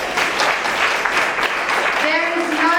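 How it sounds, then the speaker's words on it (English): Steady crowd applause fills a coaching event hall, with a voice speaking over the clapping toward the end. "Give yourselves a clap."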